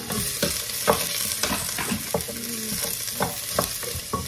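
Ginger and onion sauté in olive oil in a home kitchen pan, giving a steady close sizzle broken by repeated spatula scrapes and knocks, with no talking.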